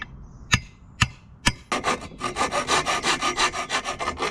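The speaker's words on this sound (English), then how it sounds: "it was time to get a piece of aluminium and cut some holes so I can feed the wires" A piece of aluminium being cut to make holes: three sharp knocks, then a fast, steady series of close, rasping back-and-forth cutting strokes.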